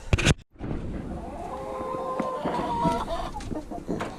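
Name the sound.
chickens clucking in a heated coop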